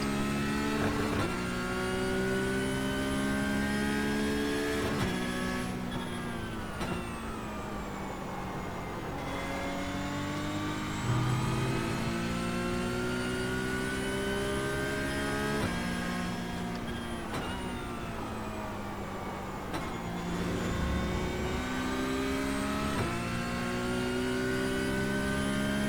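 Race car engines in iRacing's Porsche Cup at Oulton Park rise and fall through the gears, with sharp downshifts and long climbing revs repeating lap after lap. The engines scream loudly and continuously, with no voices heard.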